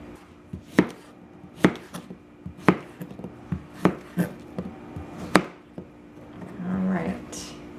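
A knife cuts zucchini lengthwise into quarter pieces on a cutting board for a home meal-kit dinner: a series of separate, sharp chops spaced roughly a second apart, close-up, with soft kitchen shuffling between strokes.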